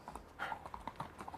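Horse hooves clip-clopping as a radio drama sound effect: a steady, even run of hoofbeats at moderate distance, with no voices.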